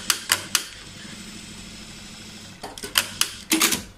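A Jack A4S/A5 industrial sewing machine stitching in a workshop, with sharp mechanical clacks of the thread trimmer engaging in quick bursts at the start and end, separated by a low steady motor hum.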